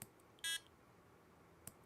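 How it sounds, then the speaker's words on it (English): A single short electronic beep sounds from a button press on an Adafruit board, loud and clear against a quiet background, with a faint click shortly after. "when I press this button, it will beep"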